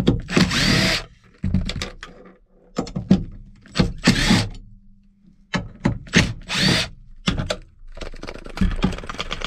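While trim is being fitted to a 1994 MK3 GTI, a power tool backs four 6mm Allen bolts out of a mounting bracket. Close-up, it gives repeated short whirring bursts with brief pauses between them.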